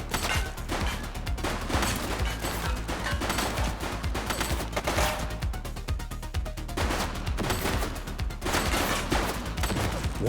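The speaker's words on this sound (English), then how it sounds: "Shots fired!" Rapid gunfire in the police game The Precinct, loud sustained bursts and machine-gun volleys cracking continuously over game sound for about ten seconds.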